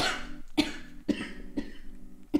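A person coughs several times in a row, sharp separate bursts spaced about half a second apart, close and fairly loud with no other sound around them.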